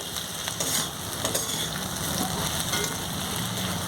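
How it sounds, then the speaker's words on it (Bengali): Raisins fry in a pan with a continuous close sizzle and a few light scrapes of stirring, no voices. "তো কিশমিশগুলো আমার কালার চেঞ্জ হয়ে গেছে, ভাজা হয়ে গেছে।"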